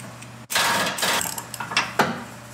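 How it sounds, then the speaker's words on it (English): Wrench working a tight bolt on a heavy-duty factory truck hitch during a Torklift SuperHitch install: a close, steady metallic ratcheting and grinding with a sharp onset and a few louder knocks, no talking. "Need a bigger wrench."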